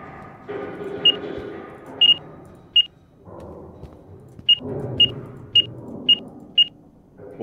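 Short electronic keypad beeps in the video game Escape the Backrooms sound one at a time, eight in all at uneven intervals, over a low background hum and some shuffling.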